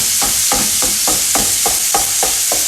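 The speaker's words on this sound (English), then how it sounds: "I'm going to start by doing frying the mince in batches, just 500 grams at a time." Minced beef frying in a pan, a 500-gram batch being stirred, with a steady loud sizzle underneath regular scraping strokes of a utensil about every third of a second.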